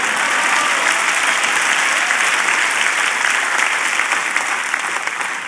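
Congregation applauding during a church sermon, a dense, steady wash of many hands clapping at close, loud level throughout with no break.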